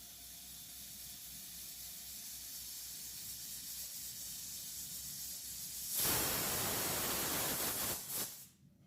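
A pressure cooker on a stove builds up in a kitchen: a steady faint hiss of escaping steam runs throughout, then swells into a loud burst of rushing steam near the end before cutting off abruptly.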